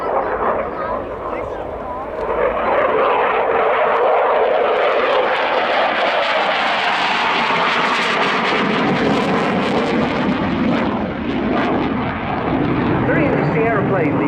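A Czech Saab Gripen fighter jet runs in for an airshow display pass, its loud broadband roar swelling and sweeping over the crowd, with a commentator talking over it throughout.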